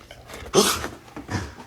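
A dog lets out a few short vocal bursts, one louder whimpering bark followed by softer whines, close by and with no talk over them.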